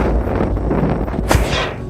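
A second explosion bursts through a garage in a TV thriller, leaving a car as a burning wreck: a sudden loud blast partway through, preceded by a dense rumbling, crackling action soundtrack.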